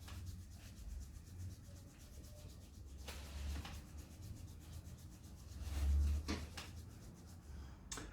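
Palms rub over the ears during a seated self-massage, producing soft, muffled swishing strokes close to the microphone, with a few louder brushing bursts and no talking.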